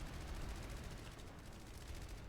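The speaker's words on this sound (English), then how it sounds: "Oh my god, the explosions are everywhere." Dense gunfire and explosions from a large-scale futuristic shooter battle between two teams, a continuous rattling barrage of shots with low booms underneath, loud and close throughout with no talk.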